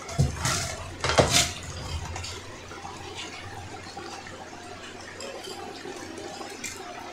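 Meat being stirred into a pot in a home kitchen, with a couple of clattering scrapes near the start, then a steady low wet rustle of mixing that carries on quietly.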